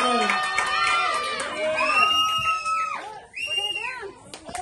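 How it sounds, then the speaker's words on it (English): Wedding guests at a first-dance celebration cheer, whoop and shout loudly and continuously, with excited voices rising and falling over a dense crowd roar. "Can we get a round of applause for them?"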